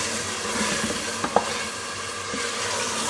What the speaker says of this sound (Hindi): थोड़ा सा इस चने की दाल को भून लूँगी।